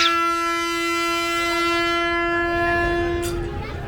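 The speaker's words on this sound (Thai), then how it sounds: "รถไฟเหรอ" A train horn blares a long, sustained tonal blast close by in India, with rumbling rail noise underneath and a brief sharp sound near the end.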